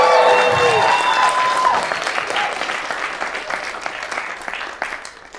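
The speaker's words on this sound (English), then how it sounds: "I'm gonna clap for you right now." A comedy show audience breaks into loud, sustained applause, dense clapping with a few cheers that fades gradually over several seconds.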